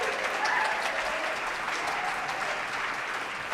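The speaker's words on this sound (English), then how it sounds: "And can we have a big round of applause for Lydia Cortez?" Audience applause at a New Year's Day poetry marathon reading, a steady broadband wash of many hands clapping that holds evenly throughout, moderately loud with no talk over it.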